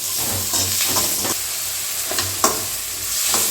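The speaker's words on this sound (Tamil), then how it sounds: "வெங்காயம் நல்லா வதங்கட்டும்." Chopped onions sautéing in a pan with oil for village-style egg tikka masala: a steady close sizzle and hiss with intermittent scraping stirs of a spoon, no talking.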